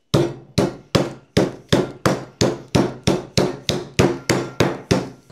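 A meat hammer pounds a pork fillet laid between layers of plastic wrap, thinning the meat with about thirteen steady, evenly spaced thuds, close and loud with no talking.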